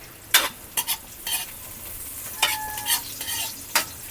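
Ginger, garlic and onions fry in a pan at home and are stirred now and then. Scraping strokes and clinks sound over a steady, soft sizzle.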